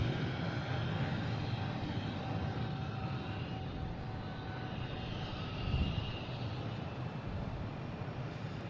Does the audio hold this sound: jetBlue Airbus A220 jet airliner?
yes